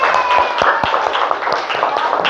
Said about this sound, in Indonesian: Untuk itu kita aplaus buat kita semuanya.